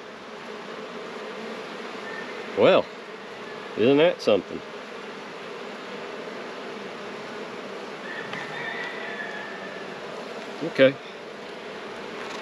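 Honey bees, drones among them, hum in a constant close buzz during a hive inspection, with a man's short remarks breaking in a few times.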